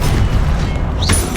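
Fiery Confringo blast spell from the Hogwarts Legacy video game, a dense booming burst over a rumbling low-end game mix, with a brief rising whoosh near the end.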